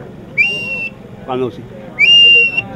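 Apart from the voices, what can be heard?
bird lure whistle blown for distance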